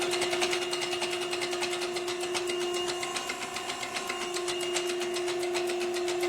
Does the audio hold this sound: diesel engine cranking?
yes